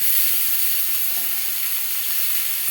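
Chopped onions sizzle steadily as they fry in a pan for a fish bhuna, a dense continuous hiss close by with no talking.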